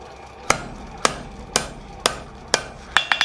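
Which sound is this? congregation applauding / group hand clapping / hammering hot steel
hammering hot steel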